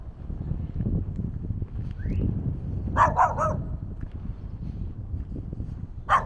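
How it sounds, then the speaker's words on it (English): Dogs on a rural Cotswolds village walk give a quick burst of three sharp barks, then a final yip, heard against steady outdoor wind and footstep rumble. "a couple of doggies wanted to say hello."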